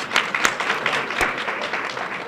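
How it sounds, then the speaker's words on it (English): An audience applauds at a Mothers for Justice and Equality annual convening, a steady wash of clapping with a few sharper hand claps standing out over the two seconds. "We can applaud on that too."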